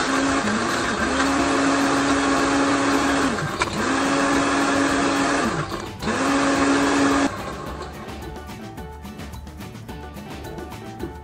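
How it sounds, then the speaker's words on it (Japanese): An electric blender whirs loud and close while mixing a frozen lemonade margarita with Cointreau in a small bar, running in three long bursts with brief dips before cutting off into quieter room sound. "ブレンダーにかけます。"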